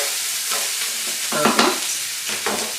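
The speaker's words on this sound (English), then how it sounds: "And I'm going to give it a stir." Chicken fried rice with scrambled eggs is stirred in a hot pan: a steady sizzle with several scraping, shuffling bursts of the spatula at irregular intervals, close and fairly loud.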